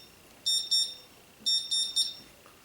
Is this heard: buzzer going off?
yes